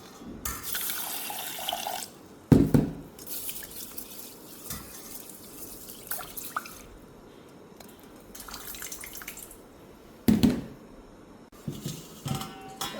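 Sticky rice swished and rinsed in a bowl of water at a sink, with intermittent bursts of running tap water, splashes and pours, and quieter sloshing and drips in between, no talking.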